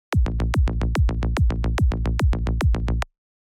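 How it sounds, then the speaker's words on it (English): A fast, punchy psytrance bassline pulses in a steady rolling triplet pattern, each hit tight with a short kick thump covering the first third of the triplets, then stops abruptly. "you have like a short kick which is just like covering the first third of the triplets"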